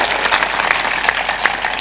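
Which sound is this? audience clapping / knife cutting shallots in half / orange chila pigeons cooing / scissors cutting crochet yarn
audience clapping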